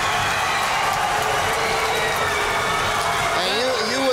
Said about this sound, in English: the crowd is just bedlam